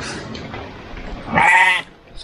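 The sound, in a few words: sheep bleating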